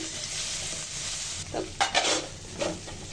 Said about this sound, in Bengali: আমার চাপটা ম্যারিনেট করার পরে যে মশলাটা ছিল সেই মশলাটা তেলে ভেজে নিব